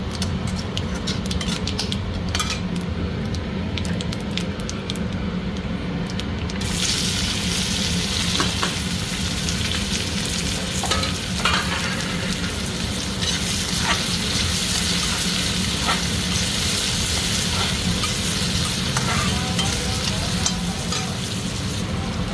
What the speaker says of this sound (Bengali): তেল গরম হয়ে গেছে, তেলে দিয়ে দিলাম জিরে